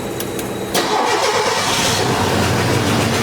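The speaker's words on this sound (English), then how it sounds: "Cranks right up." A 1984 Mercury Capri engine cranks briefly, catches and settles into a loud, close, rough idle with a slight stumble.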